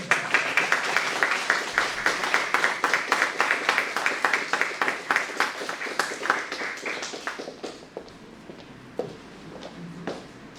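Audience clapping to welcome two writers to the stage at a poetry talk: a modest group's distinct, rhythmic claps, fairly close, that thin out and fade to a few scattered claps toward the end.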